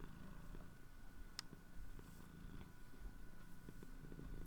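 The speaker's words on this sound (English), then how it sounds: "just enjoying the Peko purrs" Cat Peko purring, a soft, steady low rumble with a rhythmic pulse, close and quiet, with no voices.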